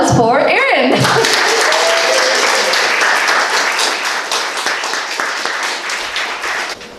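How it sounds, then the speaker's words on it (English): A live comedy show audience bursts into loud, sustained applause and cheering for the performer, dense clapping that carries on for several seconds before slowly thinning out, with a voice briefly heard at the start. "Big round of applause for Erin."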